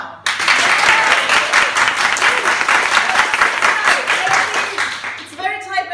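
A crowd at a theater class show claps to vote for a Hitchcock-style story, loud sustained applause that starts abruptly and carries on steadily before a voice cuts in as it fades.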